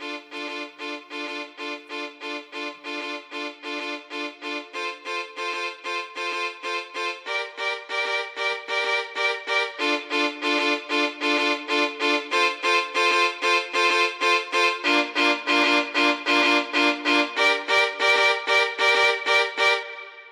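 Bright, plucky synth chords repeated in short staccato bursts at a steady, bouncy rhythm, the chord pattern shifting as it continues.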